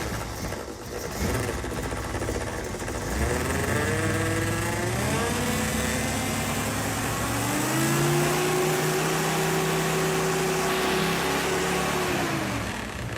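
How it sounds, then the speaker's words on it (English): A car engine idles and revs up in steady, rising surges, with the cooling fan striking its shroud and adding a rough, scraping buzz; loud and close throughout, with no talking. "The fan is hitting the shroud, which is making a weird noise."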